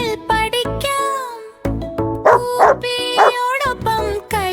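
Puppy barking in a Malayalam children's nursery rhyme, a few short yips set within a sung melody with music, loud and close.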